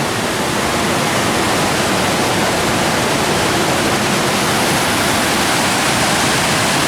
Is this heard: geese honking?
no